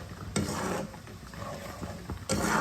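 Cream bubbles in a pan while turning into homemade ghee, a close, continuous crackling simmer with a couple of louder spitting bursts.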